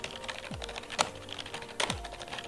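Keystrokes on the first of two keyboards compared, a Corsair K57 RGB Wireless among them, tapping steadily in scattered close clicks with a few heavier key thumps, no voices.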